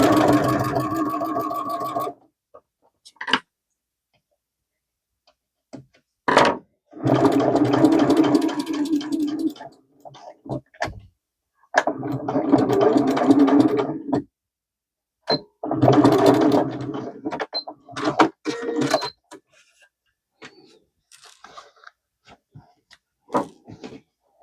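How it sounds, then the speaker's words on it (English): A sewing machine re-stitches lines in pink thread on old jeans fabric, running in three or four rapid bursts of a few seconds each. Short quiet pauses and small clicks and handling knocks separate the bursts. "I'm going to unpick these lines, re-sew them in pink, and then I'll attach it to the fabric"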